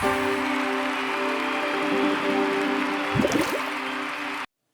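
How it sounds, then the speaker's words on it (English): Office water cooler trickling and filling, a soft liquid gurgle and a few drips near the end over a steady electrical hum. "Behold, the office water cooler."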